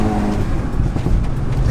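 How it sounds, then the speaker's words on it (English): Engine rumble from a VW Golf GTI-R, a steady loud low drone with faint crackling pops from the exhaust scattered through it, heard from inside the car. "listen to the pops out the back"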